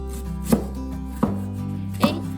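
A knife chops ginger on a board with three sharp, evenly spaced thuds over a low steady hum, close and without talk.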